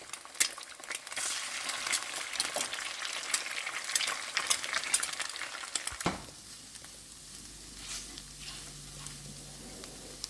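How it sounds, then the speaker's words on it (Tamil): An egg fries in a pan for Sri Lankan-style seafood nasi goreng, crackling and spattering loudly with tiny pops, then dying down to a quieter, softer sizzle after a scrape of the pan. "முட்டையை வந்து நாங்கள் இப்படி இதையும் பொரிச்சு எடுத்துட்டோம்"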